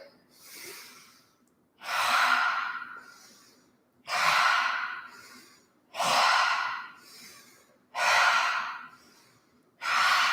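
Slow, deep yoga breaths, each inhale and exhale a long airy rush repeating about every two seconds, close and clear, with quiet gaps between and no speech.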